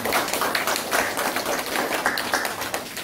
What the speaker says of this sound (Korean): 박수로 하나님께 영광을 드립니다